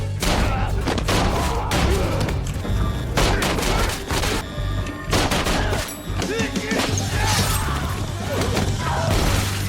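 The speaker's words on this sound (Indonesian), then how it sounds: "Aksi baku tembak serta pembantaian pun tak bisa terelakkan lagi." Dense, loud gunfire from a movie shootout between a lone fighter and Yakuza gangsters, rapid volleys and bursts with crashes and shattering mixed in, continuous over about ten seconds with no pauses.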